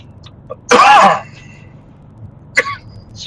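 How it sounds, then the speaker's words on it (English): A man gives a single harsh cough, a short throaty burst, then a smaller rasping throat sound a moment later, close by in a quiet room. "Damn cough."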